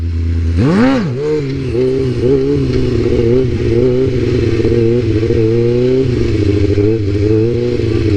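A stunt motorcycle idling a little high, blipped once early then settling into a steady, loud close engine drone with slight wavering revs and no talk.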